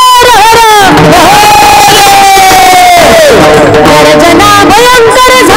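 A crowd roaring a battle cry, loud, sustained massed voices rising and wavering in pitch like a collective war whoop, heavily saturated and continuous throughout, with cheering textures mixed in.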